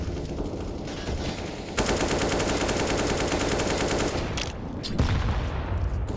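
Sustained rapid automatic gunfire from Counter-Strike: Global Offensive during a FURIA vs Team Liquid match, loud continuous bursts of M4 rifle fire with a brief shift in intensity near the end.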